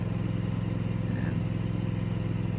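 A directional drill rig engine runs steadily while boring conduit, a continuous low droning rumble at an even level without breaks.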